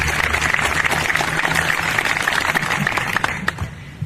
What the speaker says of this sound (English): if you all want to join me in a round of applause for them